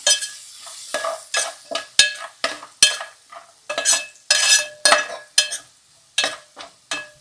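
Spice masala being stirred into a stuffed crab curry in a pan: a close, steady run of repeated scraping strokes with a light sizzle underneath, each stroke a short burst with brief pauses between.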